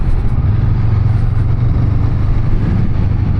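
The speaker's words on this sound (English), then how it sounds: "That muffler has a nice low rumble for a 500cc engine." A Honda Rebel 500 parallel-twin motorcycle engine idles with a steady, low, smooth rumble through its muffler, close by and constant throughout.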